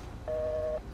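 A single steady electronic tone of about half a second from a phone call's busy signal in the video game GTA 5 sounds faintly over low background noise.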